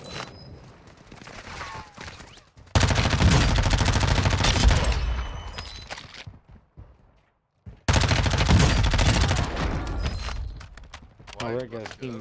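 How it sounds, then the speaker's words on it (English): Enemy gunfire from a team in a cave in a multiplayer shooter, sustained bursts of rapid shots in two long loud stretches separated by a brief lull, with voices talking over the game. "There's a team in the fucking cave shooting at us"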